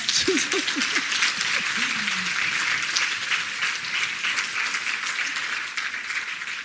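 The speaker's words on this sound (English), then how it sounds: "Clap like you mean it now, man." An audience applauds at a scholarship awards ceremony, a dense even wash of clapping from many hands throughout, with a brief voice sounding near the start.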